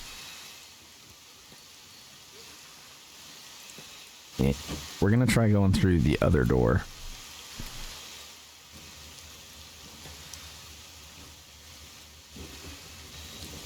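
Steady video game rain hisses throughout in Kenshi, broad and constant in the background while someone talks briefly over it.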